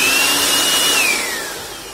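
A Jakmister 700W electric air blower spins up with a loud, high motor whine and rushing air, its pitch gliding and then easing as the motor settles.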